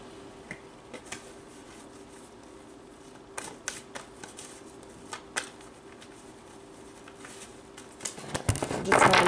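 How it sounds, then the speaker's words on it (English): Close up, tarot cards are handled in quiet, scattered snaps and flicks spread through the stretch, and a louder, denser burst of shuffling comes at the end. "I just want to make sure I shuffle these nice and good for you guys."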